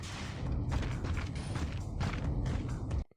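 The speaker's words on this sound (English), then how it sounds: "Closing the door." A heavy mechanical door in the Fallout video game slides shut with a creaking, grinding mechanism that runs steadily for about three seconds, then stops abruptly with a dull thud before silence.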